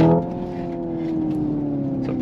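A Hyundai Ioniq 5 N electric car pulls hard through simulated gear shifts, giving off a steady synthetic engine drone that rises gently in pitch, with no voices over it.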